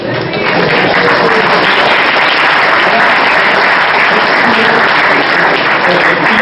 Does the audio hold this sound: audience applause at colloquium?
yes